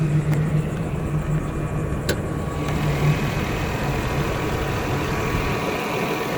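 A 1989 Toyota Crown Royal Saloon G with its 3.0-litre six-cylinder idles with the hood open, a steady, close engine hum with an even low drone throughout and no voices.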